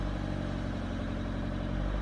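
Turbocharged car engine held at raised RPM while a turbo actuator position sensor fault is checked, a steady mid-pitched hum running continuously and fairly close without talk.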